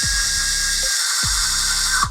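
A Fanttik Nano power drill whines at low speed against a vinyl flooring sample, a steady high-pitched buzz with two brief dips where the motor stops and spins back up.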